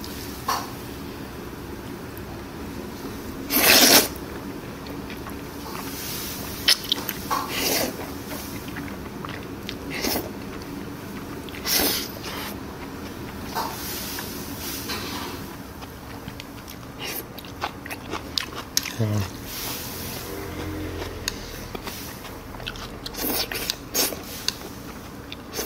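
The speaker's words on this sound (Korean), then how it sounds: "네, 한번 먹어보겠습니다." Someone eats ganjjajang, Korean black bean noodles with white handmade noodles, at a restaurant, making scattered crunchy bites and soft chewing sounds spread irregularly across the stretch, with light clatter and little talk.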